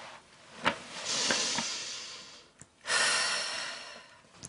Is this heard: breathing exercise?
yes